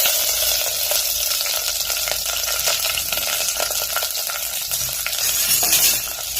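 Steady, dense sizzling of shallots and green chilies frying in hot oil, close and fairly loud, with occasional stirring scrapes and no voices.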